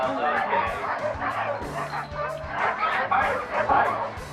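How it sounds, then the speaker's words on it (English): A sled dog team barks and yips excitedly on an Alaska summer training run, many overlapping close barks in a busy, continuous chorus with voices mixed in. "it is all he can do to hang on before turning his dog team loose"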